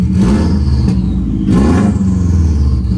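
Subaru WRX engine with an open downpipe exhaust revving hard and loud, two surging rev blips over a deep rumbling drone, close by with no talking.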